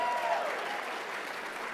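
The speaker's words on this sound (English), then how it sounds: "Round of applause." The crowd at a 2023 fundraiser auction applauds a $1,000 pledge. A brief, dense wash of clapping from many people holds at a steady level, with a voice briefly audible at the start.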